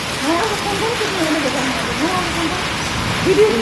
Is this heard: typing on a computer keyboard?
no